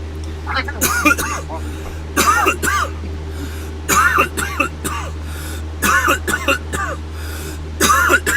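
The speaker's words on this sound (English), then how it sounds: "At least I'm not the only one coughing" Repeated throat clearing and coughing bursts, about six clusters spaced roughly a second apart, close and fairly loud over a steady low hum, from a streamer outdoors in hot weather after smoking OG Kush.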